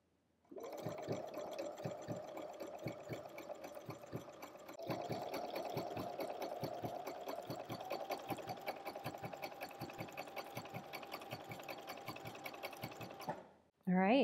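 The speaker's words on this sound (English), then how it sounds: "So I'm gonna lower the needle and we'll start stitching." A sewing machine stitches a shell tuck hem on a T-shirt, running as a fast, even, rhythmic whir of needle strokes for most of the span before stopping abruptly near the end.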